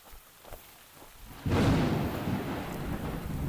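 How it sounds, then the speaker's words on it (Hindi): Heavy rain pours down steadily in the mountains of Uttarakhand, near a ruined shelter, as a deep rumble of thunder swells midway and the hiss of the downpour stays loud and continuous to the end. "बारिश बहुत तेज़ हो चुकी है।"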